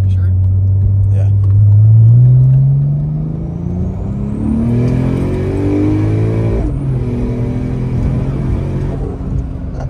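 An 800 hp Porsche 911 Turbo is floored at full throttle, its engine note climbing steadily and loudly through the revs before a gear change, then pulling hard again, heard from inside the car with voices over it.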